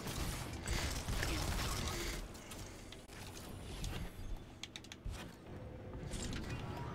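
Mechanical clanks, ratcheting and creaking as a door unlocks in the sci-fi shooter Destiny 2: Lightfall, a busy layered game mix with sharp clicks near the middle, heard alone without talk.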